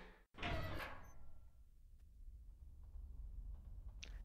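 A door swings open onto a school roof in a visual novel game. A short sharp click, then a brief sliding, creaking sweep, followed by a quiet ambient hush with faint small knocks.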